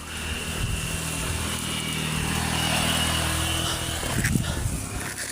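A motorcycle engine drones nearby, its pitch rising and falling as it passes, with a rougher burst toward the end.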